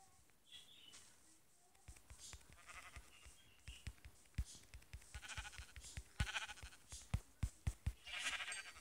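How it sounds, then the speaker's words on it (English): Sheep in Minecraft bleat quietly in short nasal calls, set among a busy stream of soft clicks and taps that grows denser toward the end. "look, there's sheep over there too"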